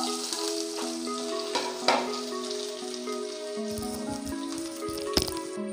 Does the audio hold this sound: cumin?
yes